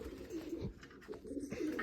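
Pigeons coo softly in a low, rounded murmur, two short bouts of cooing with a brief lull between them, fairly faint against a steady background hiss.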